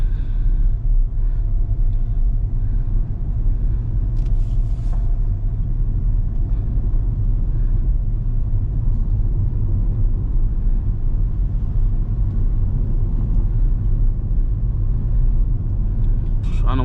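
A 2023 C8 Corvette drives along a Florida dirt road, heard from inside as a steady low engine and road rumble with tire noise that stays constant and fairly loud throughout, with no talking.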